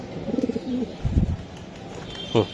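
Racing pigeons, including a red checker hen, coo in a soft repeated run of low throaty notes, close by, with a brief flutter and a few faint chirps; no talk over them.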